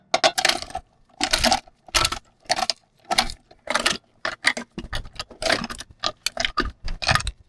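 Lug nuts clink and rattle against metal as they come off a car wheel during sway bar link replacement, a close, irregular series of short metallic jangles separated by brief pauses.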